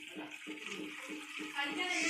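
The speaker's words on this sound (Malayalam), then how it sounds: "ഒരു പാത്രത്തേക്ക് മാറ്റി നമുക്ക് 1 കപ്പ് വെള്ളം ഒഴിച്ച് കൊടുക്കാം" Water poured from a cup into a bowl while making masala egg noodles, a steady close splashing stream that runs the whole time and swells slightly toward the end.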